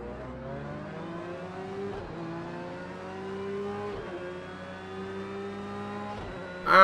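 A race car engine in Project Cars 2 revving through gears on track, its whining tone climbing and dropping at each upshift for several seconds, steady and fairly close, ending in a sudden louder burst.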